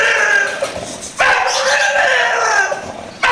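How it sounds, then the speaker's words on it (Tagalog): A dog barks and yelps in drawn-out, whining bursts, close by and fairly loud, with a couple of separate outbursts in quick succession. "Nag-iingay na yung aso."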